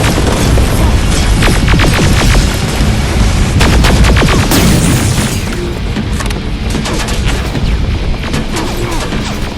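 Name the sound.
grenade explosions and gunfire in video game Terminator: Resistance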